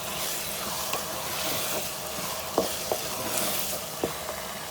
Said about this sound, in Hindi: ये देखें अच्छी तरह भुन रहा है कीमा